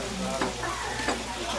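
Garlic sizzling in a pan at the start of a sambal-style sauce during a cooking class, a dense, even frying hiss with a couple of brief stirring scrapes, close and steady.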